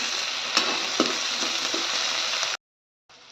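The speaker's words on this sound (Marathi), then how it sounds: "त्यात मी हा बटाटा आणि टमाटा मिक्स करून घेणार आहे आणि आपल्याला छान एक फ्राय करून घ्यायचा आहे" Onion, potato and tomato frying for kanda poha in a pan: a steady, fairly loud sizzle with a few soft stirring knocks, cutting out abruptly near the end before a quieter sizzle returns.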